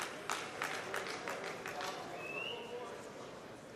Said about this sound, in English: There's some of the European contingent out there cheering him on.